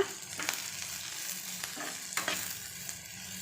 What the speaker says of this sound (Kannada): ಈ ಕಾಯಿ ತುರಿನೇ ಅಷ್ಟೇ ಚೆನ್ನಾಗಿ ಎಣ್ಣೆಲಿ ಫ್ರೈ ಆಗಿ ಕಲರ್ ಚೇಂಜ್ ಆಗಬೇಕು ಅಲ್ಲಿವರೆಗೂ ಫ್ರೈ ಮಾಡ್ತಾಯಿರಿ